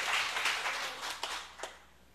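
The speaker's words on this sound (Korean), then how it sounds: "이 시간 목사님께 큰 박수 한번 보내주세요." A church congregation applauds the pastor with a brief burst of dense clapping that thins out toward the end, leaving a few scattered claps.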